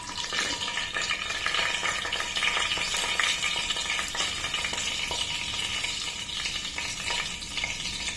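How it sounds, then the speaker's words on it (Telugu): Tempering seeds splutter and crackle in hot oil in a pan while cooking a carrot and potato curry, a dense, continuous close-up sizzle with no voices. "ఇవి కూడా కొంచెం చిట్టపట వేగే వరకు వెయిట్ చేద్దాం."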